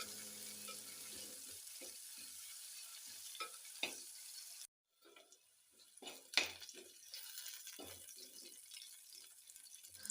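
Onions sautéing in a pan for tomato curry, a soft sizzle with intermittent scraping stirs, the sound briefly cutting out midway before resuming with clinks and scrapes.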